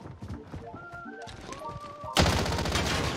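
Gunfire in the Warzone battle royale video game, with a sudden loud burst of rapid shots in the final circle following a stretch of tonal game sounds and movement.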